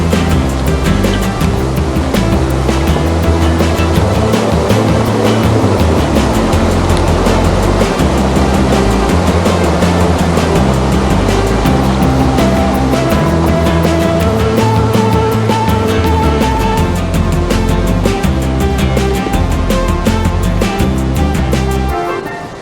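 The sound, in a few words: creek flowing under a log bridge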